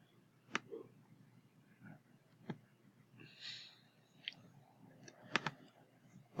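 A few sharp computer mouse clicks sound one at a time at irregular intervals while a file is saved, quiet and close against near silence with no talking.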